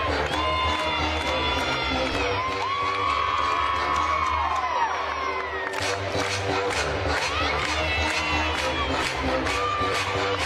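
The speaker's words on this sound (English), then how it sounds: "You can see the team really getting into this floor music, clapping along with the rhythm." A college gymnastics team cheers and claps along to floor music at an NCAA meet, loud whoops and shouts over steady music and rhythmic clapping, with a busy arena crowd throughout.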